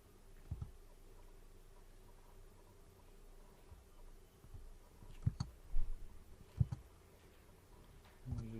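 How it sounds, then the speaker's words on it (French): Quiet, sparse clicks of a computer mouse sound close against a soft background hiss, a few single taps spaced irregularly, with a small cluster near the end. "Je clique dessus, je le télécharge"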